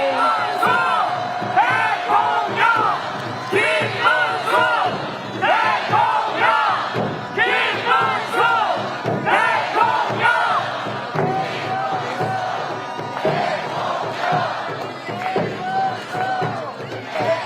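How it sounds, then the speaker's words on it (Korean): A large crowd at an outdoor election campaign rally at Seoul City Hall cheers and shouts with bursts of claps, loud and lively throughout, with voices calling out over the noise. "큰 박수와 함성으로 맞아주시면 고맙겠습니다"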